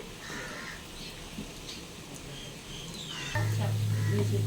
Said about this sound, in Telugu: ఓ పక్క వేగాక వేరే పక్కకి టర్న్ చేసుకుని ఫ్రై చేసుకోవాలండి